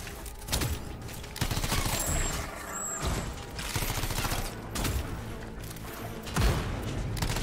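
Shotgun fire in the Anthem video game, a fast run of booming blasts with mechanical clatter and reload clicks, dense and continuous at moderate level with no talk.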